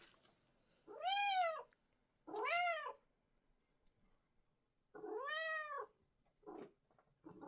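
A cat meows loudly three times with long drawn-out cries, close by, followed by a couple of shorter chirps; quiet gaps between calls.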